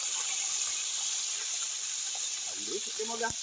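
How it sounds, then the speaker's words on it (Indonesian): Milkfish fries in hot oil in a wok outdoors at night, a steady loud hiss and sizzle filling the whole stretch, with a voice speaking briefly near the end. "Sekarang waktunya goreng ikan."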